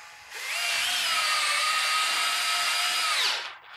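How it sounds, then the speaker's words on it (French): A cordless power screwdriver whirs as it drives a screw into a van conversion fitting, one sustained high motor whine of about three seconds that ramps up and winds down, close and loud. "Et en fait, on vient visser directement."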